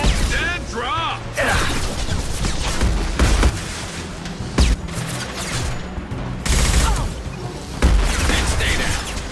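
Sustained gunfire in the sci-fi shooter Mass Effect 2, dense overlapping shots and heavy impacts punctuated by louder bangs, with voices speaking over the chaotic combat din.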